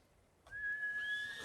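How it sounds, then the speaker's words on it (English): A horse in Ghost of Tsushima lets out a single high, drawn-out whinny that starts abruptly after near silence and holds steady, fairly close and clear, with no talk over it. "Ah, horse. Horse."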